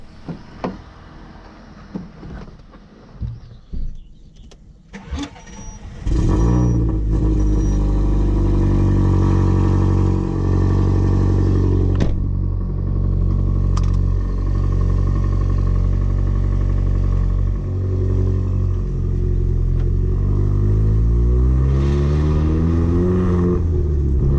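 A race-prepared car on tyres about to be changed for semi-slicks sits quiet with a few knocks, then its engine starts near the Nürburgring. It settles into a loud, close, steady rumble with light revving as it drives off. No speech.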